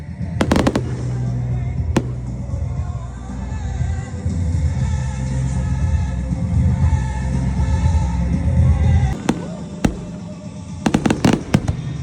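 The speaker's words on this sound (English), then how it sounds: "but they were good fireworks." Loud fireworks burst continuously at an outdoor display, with a dense rumble of explosions and sharp, separate cracks and bangs near the start and again toward the end.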